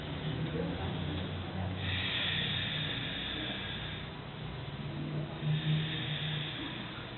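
Slow ocean-like Ujjayi yoga breathing, a steady close hiss through the throat with long drawn inhales and exhales, loud and continuous, with no talking over it.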